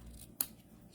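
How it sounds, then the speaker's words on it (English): A single sharp snip of scissors cutting ribbon, close and crisp, over a quiet background. "My ribbon scissors,"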